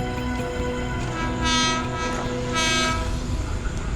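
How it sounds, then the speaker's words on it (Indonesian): A train rumbles past close by on the Bintaro railway line with a steady clatter, its horn blaring twice in long blasts. "Saya kayaknya dengar suara kereta pemirsa."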